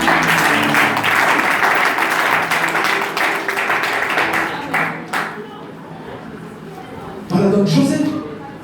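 A church congregation in Charleroi, Belgium applauds during a sermon, loud sustained clapping with crowd voices that fades out, then a short fresh burst of clapping near the end.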